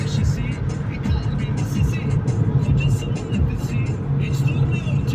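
A car driven by a nervous learner driver gives off a steady engine drone with a low, uneven rumble that keeps building. It runs under continuous talking in the cabin, with no sharp rev peak standing out.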